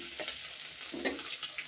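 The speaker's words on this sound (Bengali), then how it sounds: "ইলিশ মাছ ভাজতে সময় অনেক সাবধানে ভাজতে হয়" Hilsa fish fry in hot oil in a pan with a continuous soft sizzle, broken by a couple of brief scraping stirs or turns of a spatula, close up and fairly quiet.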